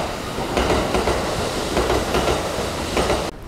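A Kintetsu limited express train rushes past close by without stopping, with loud steady rumbling and rhythmic clacking of wheels over rail joints, cutting off abruptly at the end.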